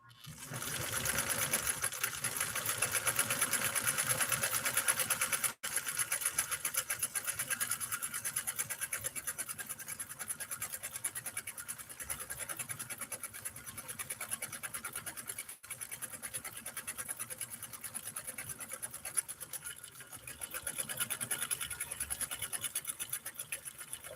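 A Nordic-Husqvarna Automatic sewing machine stitches continuously in a fast, steady mechanical whir, close and constant throughout with two very brief pauses.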